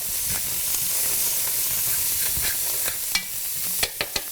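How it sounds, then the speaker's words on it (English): A cup of chopped onions sizzles in a pan for an Italian chicken dish in brandy tomato cream sauce, a continuous hiss that stays loud and near, with a few sharp utensil taps near the end. "I'm going to take a cup of chopped onions and throw them in. Kind of stir this up."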